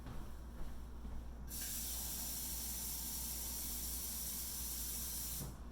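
Cold tap water runs into a two-cup measure for Tartine basic country loaf dough. The stream is a loud, steady, close rushing hiss that swells after a softer start and stays constant, with no voices.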